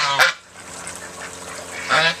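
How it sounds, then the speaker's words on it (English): Two loud honks from female geese, one near the start and one near the end, with quieter farmyard background between them. "These are the females. They're real loud. All they do is honk, honk, honk, honk, honk, honk."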